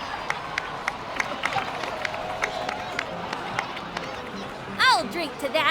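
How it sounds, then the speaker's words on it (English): A crowd in Genshin Impact claps for its heroes. Scattered claps patter throughout over a murmuring crowd, and a voice speaks alongside them. "please give another round of applause for them"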